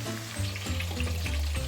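Bitter gourds stuffed with minced meat fry in a pan, giving a close, continuous sizzle with bubbling and crackling throughout and no voices.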